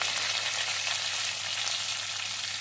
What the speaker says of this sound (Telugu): ఈ ఒక్క నిమిషం ఇది వేగనివ్వండి